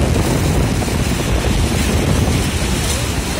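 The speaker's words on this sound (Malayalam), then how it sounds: "ഓ ഭയങ്കര കാറ്റും ഭയങ്കര കാറ്റോടെ മഴ പെയ്യുന്ന പോലെ ഉണ്ട് ഇവിടെ വന്നപ്പോഴത്തേക്ക്." Strong wind and blowing spray at Niagara Falls make a loud, steady, roaring rush that fills the whole stretch without pause, with no voices over it.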